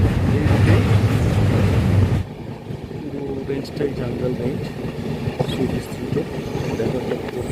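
A train runs through jungle near Hasimara, a loud steady rumble of wheels and carriages that drops to a softer rattling clatter partway through.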